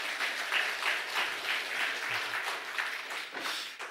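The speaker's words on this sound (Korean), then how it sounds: "하나님께 영광의 박수 올리겠습니다." A church congregation at a Sunday service applauds steadily, with dense clapping that fills the room evenly for a few seconds.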